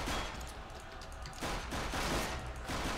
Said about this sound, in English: That dang LMG, man!